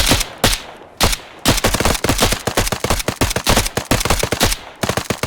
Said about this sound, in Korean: 내가 수류탄 던지고 나서 쏘라고 할 때 일제 사격해